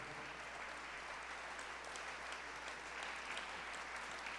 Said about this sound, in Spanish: les mandamos un aplauso desde aquí, desde Cuernavaca, Morelos, México